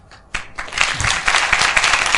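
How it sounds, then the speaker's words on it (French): Studio audience on a television show set breaks into loud, sustained applause that swells after a brief quiet start and continues densely throughout. "Vous l'avez vu, les gens viennent juste d'applaudir."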